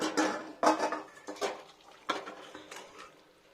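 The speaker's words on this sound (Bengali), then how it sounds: "এবার কড়াই থেকে ঢেলে নিই এটাকে" Vegetable shukto of bitter gourd, eggplant, green banana, potato and bori is poured from a wok, with several close clattering knocks of utensil against metal and soft wet spatter between them.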